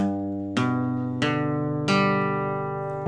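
Three strummed guitar power chords, each struck sharply and left to ring out, spaced roughly evenly, played alone and close.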